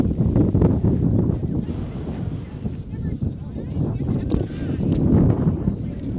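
Cold wind buffets the microphone beside a junior varsity high school football field, a continuous rumbling roar that rises and falls in gusts beneath a commentator's voice.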